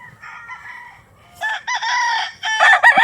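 A gamefowl stag rooster crows at a game farm, loud and close, with a first drawn-out call followed by stronger repeated crowing.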